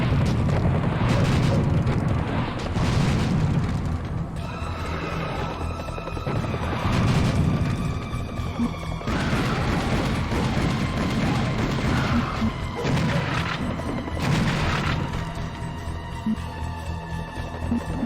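Rocket explosions boom repeatedly in the shooter game Serious Sam HD: The First Encounter, with heavy loud blasts every few seconds layered over dense, rumbling combat noise.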